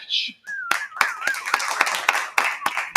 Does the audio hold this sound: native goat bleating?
no